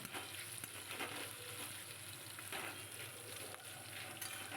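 Taro leaves and hilsa fry in a pan while a spatula stirs them, giving a faint, steady sizzle broken by repeated scraping strokes, close up and with no voices.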